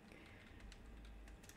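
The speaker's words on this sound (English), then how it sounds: "I'm typing it out for you." Faint, quiet keystrokes tap on a computer keyboard, a loose string of light clicks over a low background hum.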